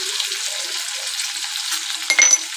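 Kadhi of yogurt and gram flour being stirred in a pan, with a steady close hiss and sizzle of simmering liquid and a brief clink of the spoon near the end.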